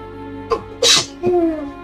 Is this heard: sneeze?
yes